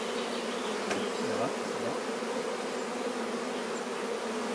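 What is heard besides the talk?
honeybees buzzing around an open hive frame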